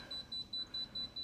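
An A.O. Smith R1600BN3 water purifier beeps six times at an even pace, a steady, fairly quiet, high-pitched electronic tone, with no voices.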